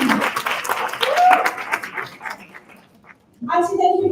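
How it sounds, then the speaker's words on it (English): Audience applause after a panel conversation, honouring an auntie and her panelists: broad, sustained clapping that swells, then thins and fades before a voice starts speaking near the end. "Let's give Auntie and her panelists a big round of applause"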